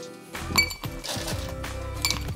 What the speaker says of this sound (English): you can just add a few more ice cubes into your tumbler